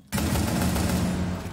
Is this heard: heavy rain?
no